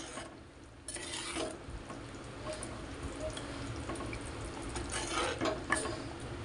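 Egg curry bubbling in a clay pot on the stove, a steady close simmer with soft popping, sizzling oil and occasional faint stirring scrapes throughout.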